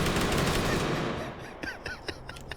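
Video-game gunfire, a dense rattling burst up close that fades out, followed by a few scattered sharp shots.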